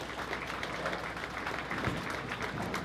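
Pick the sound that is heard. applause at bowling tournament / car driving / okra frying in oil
applause at bowling tournament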